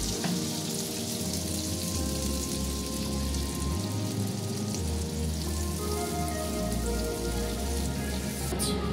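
A spice paste hits hot oil for a paneer masala, giving a loud, steady, dense sizzle and crackle that fills the whole stretch without pause, close up and alone.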